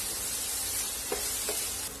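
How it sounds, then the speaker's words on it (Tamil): Chopped onion and green chillies sizzle steadily on a hot tawa, a continuous close frying hiss with a couple of brief stirring scrapes, no voices. "இந்த வெங்காயம் பச்சை மிளகாய் ரெண்டையும் நம்ம நல்லா வதக்கிக்கலாம்."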